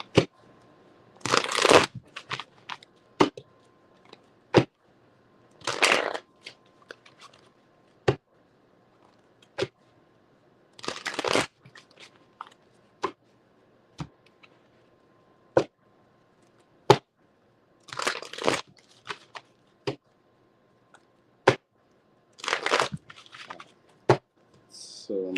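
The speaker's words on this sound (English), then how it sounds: "I just want to shuffle a couple of decks" Several decks of cards shuffled in repeated bursts, each a quick close riffle followed by sharp taps and snaps as the cards are squared, with quiet gaps between.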